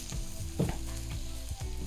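Curry-coated rice sizzles and fries in a pot for pelau, with steady crackling and a few scraping stirs of a spoon against the pot, close and moderately quiet.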